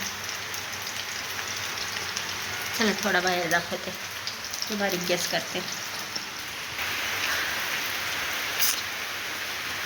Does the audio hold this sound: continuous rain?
yes